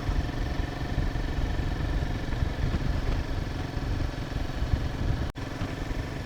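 A Royal Enfield Himalayan 450 motorcycle rides through a misty monsoon mountain ghat, its engine a steady, close, throbbing drone with rushing wind noise that holds throughout, with one brief dropout near the end.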